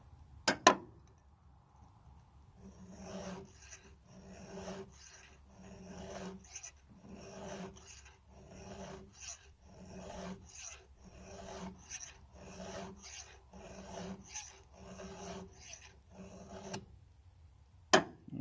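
Hand file sharpening a chainsaw chain tooth on a CS-590 Timber Wolf saw, a quiet series of about a dozen rhythmic rasping strokes up and back, each a short gritty scrape, with small clicks at the start and end.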